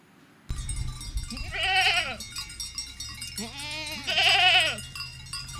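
Two long, wavering goat bleats ring out close by, one after another, over a low steady rumble of farm background.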